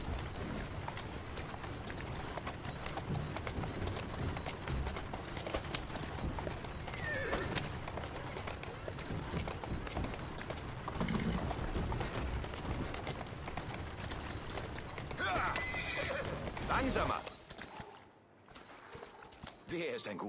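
A horse in Assassin's Creed Syndicate gallops with steady hoofbeats and whinnies over game music and effects, while a person talks over it; the sound drops out near the end.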